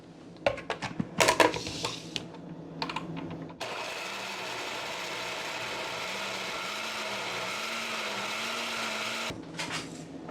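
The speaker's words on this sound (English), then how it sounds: "I'm gonna add in my coconut into the blender and I'm going to blend." A blender roars steadily for several seconds blending coconut, its motor pitch wavering as it churns, after a few clattering knocks and clicks, then cuts off abruptly.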